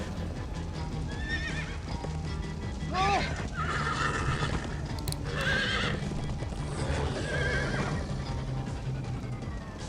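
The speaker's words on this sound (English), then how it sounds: "Use the horses to get away." Horses whinny and neigh repeatedly over steady galloping hoofbeats in the video game Minecraft: Story Mode, with busy background noise and faint voices throughout.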